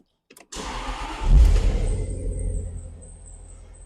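A Jaguar XKR 4.0 cabriolet is started: a short starter crank, then the engine catches with a loud burst and settles into a smooth, steady idle nearby.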